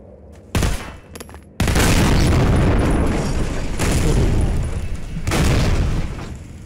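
An exploding barrel goes off in Half-Life 2 (Update with MMod), giving a loud, long roaring blast that fills the mix, followed by sustained rumbling combat noise with further booming surges.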